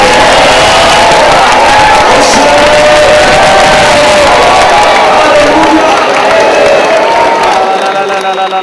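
A congregation at a Malayalam Christian healing worship service claps and cheers loudly and steadily throughout, voices shouting over the applause, with singing or speech blended in.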